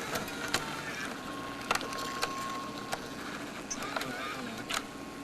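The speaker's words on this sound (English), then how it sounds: "Let's see if it'll eject the tape." Sony Handycam CCD-TR818 Hi8 camcorder mechanism straining to eject a tape: sharp clicks and clacks spaced a second or so apart over a steady whirring hum, up close and moderately loud, no voices.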